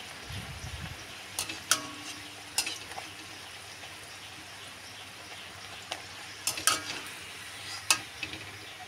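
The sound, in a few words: frying luchi or malpua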